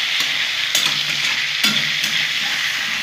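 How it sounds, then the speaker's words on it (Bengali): Pointed gourd (potol) with a little turmeric fries in a pan for potol posto, giving a steady, close sizzle with occasional sharp clicks of stirring. "আলাদা করে ভাজার কোনো দরকার নেই। এরকম করে সুন্দর করে তোমরা ভেজে নেবে।"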